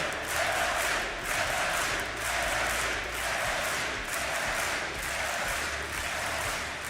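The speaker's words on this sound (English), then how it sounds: "And the crowd absolutely loves it." A large crowd roars and applauds continuously at a DreamHack esports match, Virtus.Pro vs. Ninjas in Pyjamas, in a big venue, a dense wash of cheering and clapping with gentle swells.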